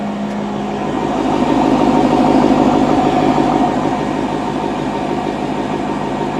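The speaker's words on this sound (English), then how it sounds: "By the way, I love the sound of this V8." A 2019 Lexus LC500 V8 runs steadily, its engine note swelling slightly in the middle and then settling back, close and fairly loud, with no one talking.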